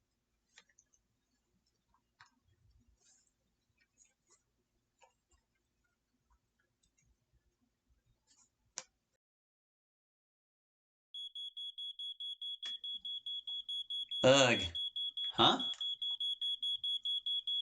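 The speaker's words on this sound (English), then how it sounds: "I quickly jolt out of bed when I hear a fire alarm go off." A fire alarm goes off after a long near-silent stretch, sounding a rapid, continuous train of shrill, evenly spaced beeps, close and loud, with a couple of brief groggy vocal sounds over it.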